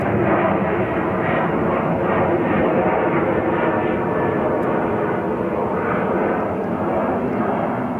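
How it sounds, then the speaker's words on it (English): A 10-year-old Boeing 737-823 airliner at JFK airport gives a loud, continuous roar of jet engines, a broad steady rumble that holds throughout at close range. "a Boeing 737-823"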